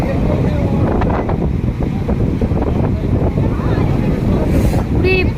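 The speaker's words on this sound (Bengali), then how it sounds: "কি ভালো লাগছে, আর এত হাওয়া দিচ্ছে।" Strong wind at the seashore buffets the microphone in a loud, continuous low roar, with possible surf mixed in and faint voices underneath.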